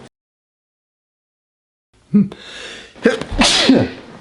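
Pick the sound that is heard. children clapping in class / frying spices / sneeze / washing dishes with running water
sneeze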